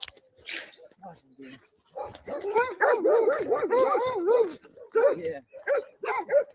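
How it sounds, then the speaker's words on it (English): A dog barks in a quick run of sharp, repeated yaps close by on an outdoor walk, with people talking before and after the burst. "She's a good dog. She actually listens."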